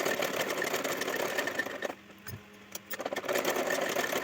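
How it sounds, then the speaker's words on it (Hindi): An electric sewing machine stitches all round a blouse and its lining, a loud close running whir that halts for about a second, then starts again with a few bursts. "तो मैंने इस तरीके से ऑल राउंड स्टिचिंग लगा लेंगे।"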